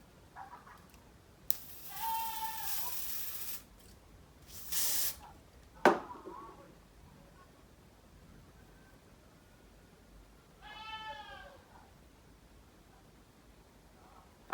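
Glamour spray hisses out in two strong bursts during a wig install, the first longer than the second, followed by a sharp click and quiet room sound.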